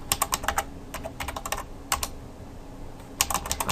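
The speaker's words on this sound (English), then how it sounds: "I can't type and talk at the same time." Keys clatter on a computer keyboard in uneven bursts of fast keystrokes, separated by brief pauses, close and alone with no talking.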